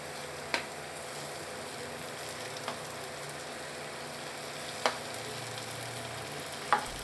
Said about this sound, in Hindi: हरी मिर्चों को फ्राई करेंगे।